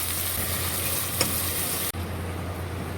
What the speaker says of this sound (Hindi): ये सारे प्याज हम इसमें ऐड कर देंगे। और 1 से 2 मिनट के लिए प्याज को हल्का सा सौटे करेंगे।